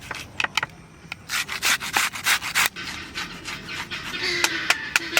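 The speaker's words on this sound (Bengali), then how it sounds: "মা পারছে না নিয়ে আমি ঘষে দিচ্ছি।" A cumin and coriander paste is ground on a grinding stone, with close rhythmic rubbing and scraping strokes in short bursts, some quicker and sharper, with no speech.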